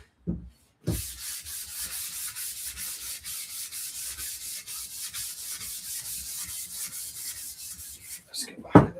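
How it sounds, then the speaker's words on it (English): A wooden bardiche halberd is sanded by hand with long, steady rhythmic strokes, producing a continuous close scratchy rasp for several seconds between a few brief knocks at the start and end. "Now let's sand it."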